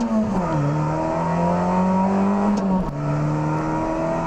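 A Peugeot 206 XS rally car pulls away at the start of a stage, its engine loud and close, revving hard in a sustained climbing drone that drops briefly with a gear change before pulling up again.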